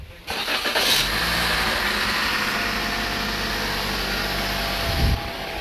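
A Toyota car engine cranks and catches, then settles into a steady, even idle close by, with a small bump near the end and no talk over it.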